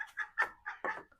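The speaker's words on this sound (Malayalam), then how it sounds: "അപ്പോൾ നമ്മുടെ അങ്ങാടി കോഴികളുണ്ടല്ലോ" Native country chickens clucking nearby, five or six short, quick clucks in an uneven rhythm, fairly faint and with no talk.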